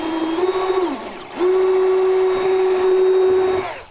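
Drill boring a hole through a sit-on-top kayak hull, a close, steady motor whine that slows and cuts out briefly, then runs again at full speed before winding down.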